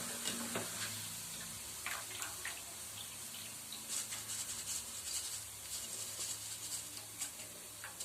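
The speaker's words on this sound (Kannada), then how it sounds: "ನೀಟಾಗಿ ಎಣ್ಣೆಯಲ್ಲಿ ಇದನ್ನು ಫ್ರೈ ಮಾಡಿ" Poha (flattened rice) frying in oil, a soft, crackling sizzle with scattered pops and light ticking, faint and fairly close, with no talk over it.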